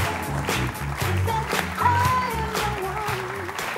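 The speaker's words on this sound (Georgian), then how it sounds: "აპლოდისმენტები სოფოს და გიორგის" Studio audience applause on a television game show greets contestants Sopo and Giorgi, sustained clapping over a bed of background music for several seconds.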